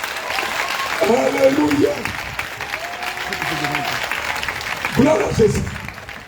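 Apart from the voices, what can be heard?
congregation applauding at church service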